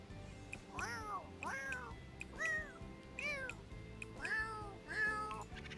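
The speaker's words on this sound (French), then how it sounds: "C'est quoi ton miaulement?" A male cat meows repeatedly, about six distinct rising-and-falling calls spaced roughly a second apart, close by, with a low background murmur between them.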